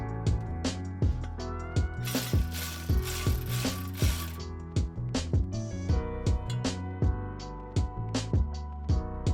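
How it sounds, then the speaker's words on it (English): Hand ratchet with a wobble socket and extension tightening 14mm spring bolts on an HKS Hi Power exhaust for a Lexus IS300, a steady series of close, crisp clicking strokes in an even rhythm with no talk. "Use a wobble socket and extension to make it easier to torque the bolts down."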